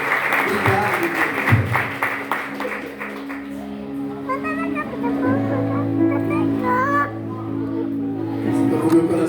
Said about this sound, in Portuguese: Pode aplaudir a Deus pela vida do Patrício?